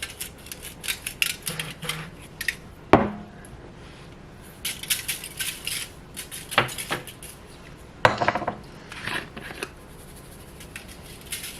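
Utensils scrape and clatter against a pan as food is flipped and seasoned, with intermittent metallic clinks and knocks, a sharp strike near three seconds, and quieter rustling between, no talking.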